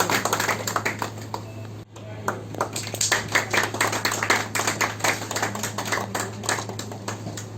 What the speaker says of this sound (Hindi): डायरेक्टर साहब के लिए बहुत सारी तालियां आनी चाहिए